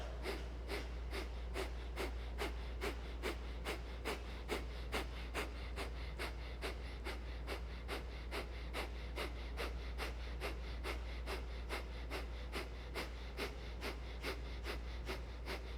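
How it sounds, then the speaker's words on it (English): Rapid, sharp nasal exhales of breath-of-fire yoga breathing pulse in an even, steady rhythm about twice a second, close and continuous for the whole stretch, with no talking. "One more final round of breath of fire."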